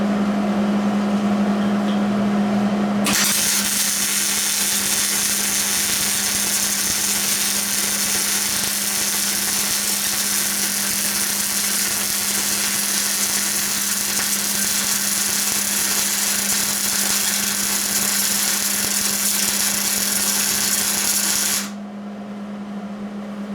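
Electric welding on engine and transmission mounts of a 1958 Chevy Apache truck: a steady, loud buzzing hiss that runs continuously for most of the clip, starting after a low hum and stopping abruptly near the end.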